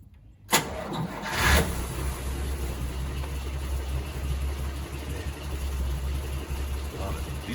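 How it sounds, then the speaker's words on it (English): A car engine cranks and catches after a cylinder head replacement, started with the key and no throttle, then settles into a steady, smooth low idle, recorded close with a faint voice in the background. "You just turn the key on."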